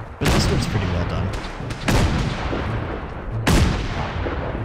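BAR rifle fire in the Fallout 4 video game: three loud, sharp shot bursts at roughly even intervals, each with a booming decay that trails into the next.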